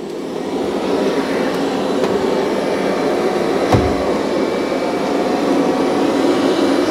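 A Roborock Q5+ robot vacuum running along the edge of a room, producing a steady, loud broadband whir with a faint thump partway through, continuous and alone without talk.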